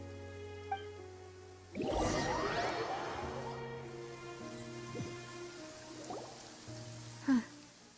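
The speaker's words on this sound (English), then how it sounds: "It's been raining non-stop for a few days now." Steady rain patters across the whole stretch in the video game Genshin Impact, with a soft whoosh and a few faint thuds, and a steady low hum running underneath.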